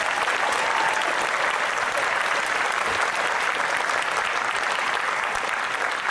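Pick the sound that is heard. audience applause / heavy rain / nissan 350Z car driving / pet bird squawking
audience applause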